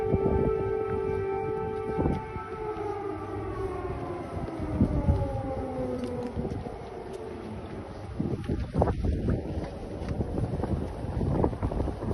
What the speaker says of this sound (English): We're hearing the air sirens sound.